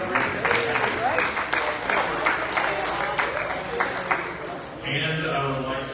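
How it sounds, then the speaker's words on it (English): Audience applause at a Rotary Club year-end celebration lunch, a steady wash of clapping from a room of people for several seconds, with a voice speaking over it, fading at the end as a quieter tone takes over. "Round of applause for Nick here."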